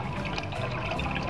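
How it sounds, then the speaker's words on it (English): Orange juice pours and trickles into a pot of water with orange peel for homemade marmalade, a faint, continuous liquid splash with no talking. "add the juice into it"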